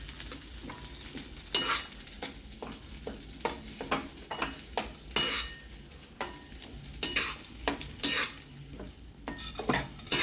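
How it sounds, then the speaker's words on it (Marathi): Boiled corn is sautéed in a little oil in a pan over a low gas flame, with a soft sizzle under repeated scraping and stirring strokes of a spoon against the pan, close and fairly quiet. "मंद केला गॅस त्याच्यावर मी हे असं परतून घेते छानपैकी"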